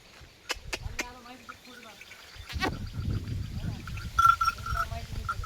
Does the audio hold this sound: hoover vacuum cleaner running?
no